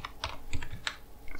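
A handful of quick, light keystrokes on a computer keyboard tap out a username in a short, irregular burst, close and quiet with no talking.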